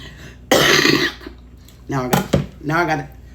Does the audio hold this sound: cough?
yes